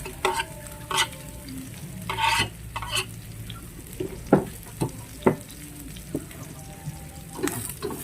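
Onions and tomatoes sizzle in a pan while a utensil stirs and scrapes, with irregular clanks and light knocks over a continuous frying hiss.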